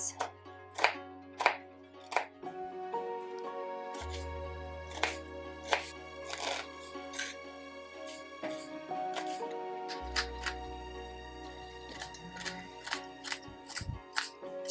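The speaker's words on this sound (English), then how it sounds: "So next I'm gonna peel this onion and I'm gonna chop it" A knife chops an onion on a cutting board for a vegan kale salad, producing a series of faint, irregular taps and knocks beneath a quiet background hum.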